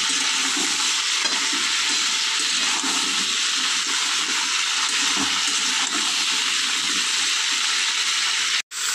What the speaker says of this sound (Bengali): ফুলকপি আর আলুটা খুব ভালো করে ভেজে নেবো